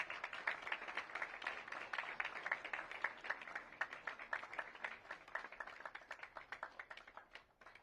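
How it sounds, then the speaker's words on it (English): An audience at an awareness event in India applauds with rapid, continuous clapping that is moderately distant and fades toward the end. "Please give them a big round of applause."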